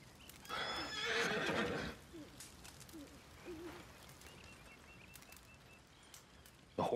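A horse in Red Dead Redemption 2 lets out a loud whinny near a quiet campfire, followed by a few soft clip-clops of hooves against a faint outdoor background.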